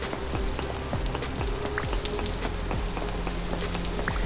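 Steady rain falls in a video game storm, a dense continuous patter with scattered drop hits against a low background rumble, loud and even throughout with no voices.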